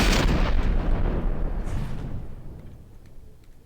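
A big gun and missiles fire in the naval combat game From the Depths: a loud, booming blast that rolls on in a long, dense rumble and slowly fades over several seconds, with no voices.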